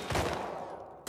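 Gunfire in The Last of Us Part II: a dense, loud burst of shots that runs as a continuous volley for about a second and ends in a sharp final crack.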